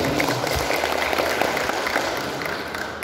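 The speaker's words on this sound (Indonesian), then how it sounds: "Aplaus kita berikan untuk Pak Bupati." Crowd applause for the regent at a formal government gathering, a dense, steady wash of clapping that holds evenly at moderate loudness across the whole span with no voices over it.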